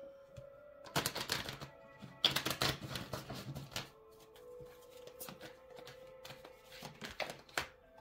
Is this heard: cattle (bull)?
no